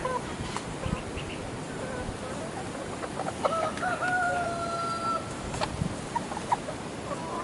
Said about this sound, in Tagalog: So ito yung ating mga manok.